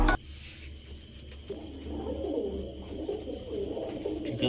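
Jagga breed pigeons coo softly in a loft in Lahore, low rolling coos repeating at close range over a faint background hum.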